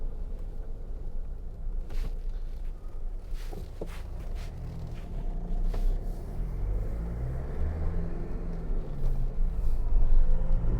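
A 2009 Jeep Wrangler Sahara Unlimited with the 2.8 diesel heard from inside while driving, giving a steady low engine and road rumble with faint interior knocks and movement.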